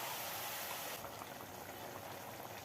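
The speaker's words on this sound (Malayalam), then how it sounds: "ജാറിൽ കുറച്ച് വെള്ളം ഒഴിച്ച് അതും കൂടി ഒഴിച്ച്" Water is poured from a mixer jar into a simmering bitter gourd curry with ground coconut paste and tamarind, a close, steady bubbling hiss that shifts slightly as the liquid hits the pot.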